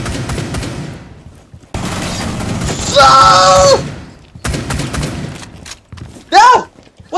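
Gunfire in a first-person shooter game, loud shots and thuds in short bursts separated by brief gaps, with a person shouting excitedly over it.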